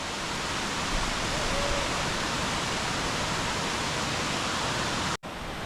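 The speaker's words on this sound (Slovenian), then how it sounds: "Ogromen slap." The roar of a huge waterfall, about 80 metres high, thunders inside the cave at Zeleni vir. The dense, steady broadband rush runs unbroken until a brief dropout near the end.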